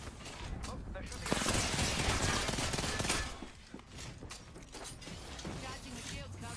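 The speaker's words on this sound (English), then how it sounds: "Oh, they're shooting." Bursts of rapid automatic gunfire and mechanical clatter in the battle royale game Apex Legends, loud and dense over a couple of seconds and then thinning out, with a voice talking over it.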